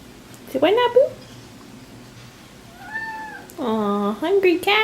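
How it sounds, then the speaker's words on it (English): Hungry house cats meowing at home: a rising meow near the start, a softer one mid-clip, then a louder, drawn-out run of meows at the end, close by with no talk. "Aw, hungry cats."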